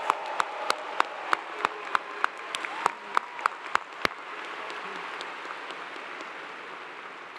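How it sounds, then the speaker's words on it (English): At a Clemson University fall commencement ceremony, a large crowd applauds in a hall. A sustained wash of clapping carries sharp individual claps on top early on, then the applause thins and fades. "How about another loud round of applause for our newest master's degree recipients?"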